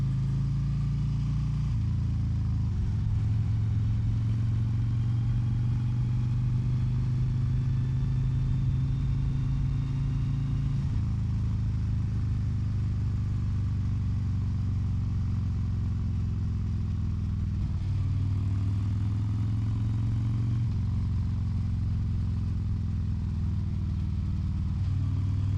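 Steady engine drone from motorcycles passing on a winding country road, a continuous mid-pitched roll that shifts in tone as they pass, close and loud throughout.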